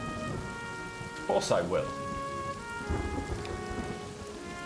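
Steady rain hisses throughout a trench-warfare strategy game, with a low rumble of thunder beneath it, while a voice briefly speaks over the downpour.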